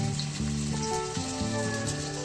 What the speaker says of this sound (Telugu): ఇక్కడ అది ఫ్రై అవుతుంది